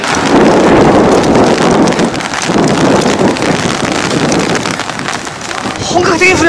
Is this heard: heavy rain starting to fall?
yes